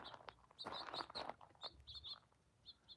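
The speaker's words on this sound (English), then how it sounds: "Some birds." Small birds give faint, thin chirps and short tweets in a desert with saguaro and cholla cactus near Green Valley, Arizona, scattered over a quiet outdoor background.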